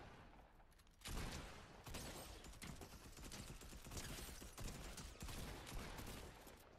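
Rapid video-game gunfire in a multiplayer shooter fills the scene, a sustained dense volley of shots kicking in after about a second and continuing loudly to the end with no talk over it.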